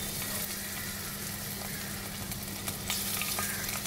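Ginger and garlic fry in a little oil in a pan for chicken noodle soup. The hiss is continuous and close, with a faint low hum underneath and a few light stirring clicks near the end.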